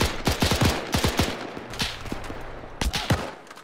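Gunfire in the military shooter ArmA 3 during a historical World War II campaign, sharp irregular shots and short bursts with loud cracks spread across a few seconds.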